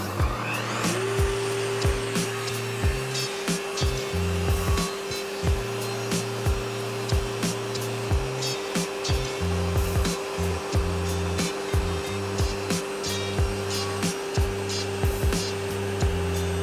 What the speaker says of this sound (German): fahren wir nämlich das Ganze mit dem Holz zusammen einfach durch das Sägeblatt